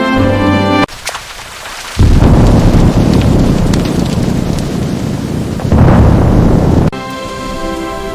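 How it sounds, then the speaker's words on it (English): A monsoon thunderstorm in a Bengali village: heavy rain pours in a loud, dense roar, with deep thunder rumbling and surging in two strong bursts, framed by music at the start and end. "Look at that rain!"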